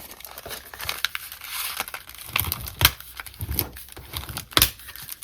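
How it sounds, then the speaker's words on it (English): Crinkling of paper or plastic sheeting while making a paper flip, a close, irregular stream of crackly rustles and sharper crunches with no voice. "Sorry about all the crinkling."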